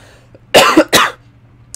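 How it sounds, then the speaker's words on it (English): Two harsh, loud coughs close to the mic from someone vaping e-liquid, the first with a short double burst, followed by quiet and a faint small sound. "It just makes me cough"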